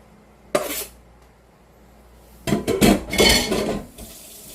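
Minced garlic going into a pan while making stir-fried zucchini, a brief clatter followed by a louder stretch of utensil scraping, stirring and light sizzling, close and with no talk.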